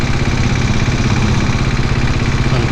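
Diesel Bullet motorcycle engine while riding, a steady loud low-pitched thumping drone close by with an even rhythmic pulse and no pauses.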